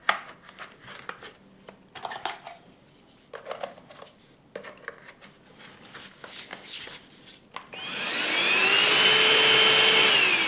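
Grundig VCH 9832 2-in-1 cordless stick vacuum, 21.6-volt cyclonic, single maximum speed: clicks and plastic handling noises, then the motor switches on and runs as a loud, steady high-pitched whine with rising tone.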